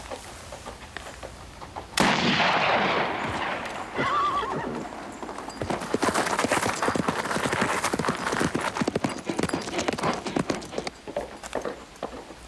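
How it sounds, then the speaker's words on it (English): A horse neighs, then gallops away with rapid rhythmic hoofbeats on hard ground, loud and close at first and continuing steadily as it runs off. "Get after that horse."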